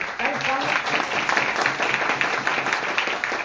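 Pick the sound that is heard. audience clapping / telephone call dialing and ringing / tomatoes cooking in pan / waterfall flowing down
audience clapping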